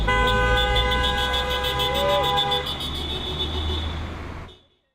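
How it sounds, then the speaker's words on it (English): Drivers at a Christchurch intersection near Hagley Park honk in support of teachers protesting with signs. A sustained car horn blares over traffic rumble, then cuts off and fades to silence. "Drivers honked and called out in support for the teachers standing with signs by Christchurch's intersection near Hagley Park"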